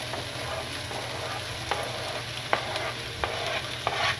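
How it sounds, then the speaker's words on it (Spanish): Tomato frying with ají chili paste in a pan for a Peruvian soup, a steady close sizzle broken by a few scraping stirs of a spoon, with no talking. "Vamos a echar el tomate, amigos."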